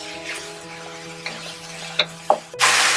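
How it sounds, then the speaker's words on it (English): Tomato cooks in a pan of browned onion for butter paneer, with a soft background sizzle, a few sharp utensil clinks and stirs, and a louder burst of frying at the end. "Cook the tomato for a while."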